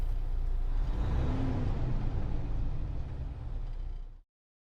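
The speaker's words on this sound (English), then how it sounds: "Practice revving the engine until you're consistently hitting the sweet spot." A car engine revs steadily during manual-transmission driving practice, a loud continuous roar that holds for about four seconds, eases slightly and then cuts off abruptly into silence.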